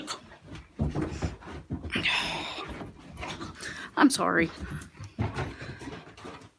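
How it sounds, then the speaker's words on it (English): Dogs pant and whimper close by indoors, breathy rhythmic panting mixing with a rising high whine, while a person talks over them. "The dogs are bothering me."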